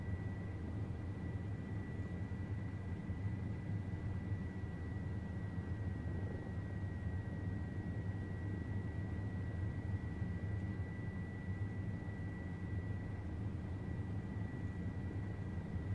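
OH-58D Kiowa helicopter in the TacFlight video game, a constant droning engine and rotor hum with a steady high whine, unchanging and heard alone without talk.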